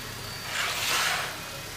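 A car engine runs at a low, steady idle while the car backs off a wheel block during an oil change, swelling briefly in the middle and then settling back.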